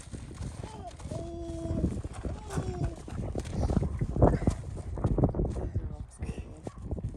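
A horse moves close by on a ride, with hoof clops and shuffling beneath people talking throughout, including a sharp exclamation.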